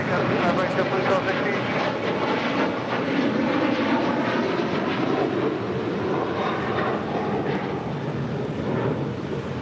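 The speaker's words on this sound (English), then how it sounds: "This is Delta Airlines Flight 811 taking off to Miami, Florida on a 737-900 ER." Loud, steady jet roar from a Delta Airlines Boeing 737-900ER taking off at LAX, a broad continuous rumble with a slow swell that holds for the whole span.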